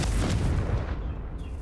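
A video-game Confringo fire-blast spell erupts in a single loud, deep boom that rolls out and fades over about a second and a half.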